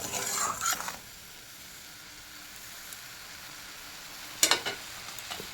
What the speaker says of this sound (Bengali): এটা আমি ভালোভাবে মশলাটাকে কষিয়ে নিচ্ছি।